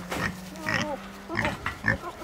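A farm pig grunts and snorts in short uneven bursts close by, with a steady low hum underneath and light background sounds of a rural yard.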